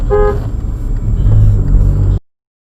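A short car horn toot on a road, loud and close, followed by a heavy engine and road rumble that cuts off abruptly.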